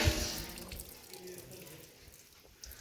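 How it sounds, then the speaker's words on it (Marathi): Water gushes from a hand pump in a rural village setting, a steady splashing flow with a louder burst at the start, heard close by with faint voices in the background. "थोडं हापसलं की पाणी चाललं बघा."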